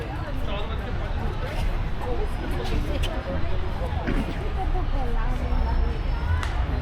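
A dense crowd of visitors fills the grounds of the Temple of Literature in Vietnam, a steady wash of overlapping voices and footsteps close around, continuous and moderately loud throughout.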